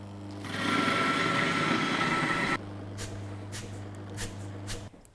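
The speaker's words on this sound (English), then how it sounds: "We're gonna put it in the grinder and hope for the best" A coffee grinder whirs loudly through a 20.3-gram dose of coffee beans for about two seconds, then cuts off abruptly, leaving a low hum and a few light clicks and taps.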